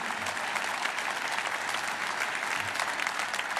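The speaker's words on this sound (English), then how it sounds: "Well, you can clap." Sustained applause from a large conference audience at an American Israel Public Affairs Committee event, dense steady clapping filling the hall for several seconds with no voices over it.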